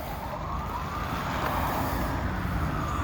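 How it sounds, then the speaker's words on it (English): A fire engine siren rises and falls somewhere along a city street in Montreal's Little Burgundy, faint and distant over a constant wash of traffic noise. "That's a fire engine somewhere, you could tell by the siren."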